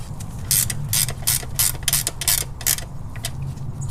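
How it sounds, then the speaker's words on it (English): A 12mm ratcheting wrench tightens a banjo bolt on a Toyota 22RE engine, giving a quick run of about a dozen close, crisp ratchet clicks in a steady rhythm over a low hum. "Now I'm going to get my 12mm wrench on there."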